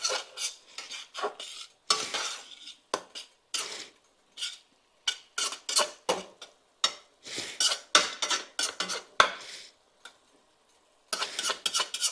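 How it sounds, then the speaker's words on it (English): Vegetables and about a cup of wine are stirred in a pot, giving repeated close scraping and clinking strokes of a utensil against metal, each followed by short pauses. "Get all them vegetables down in the bottom with that wine"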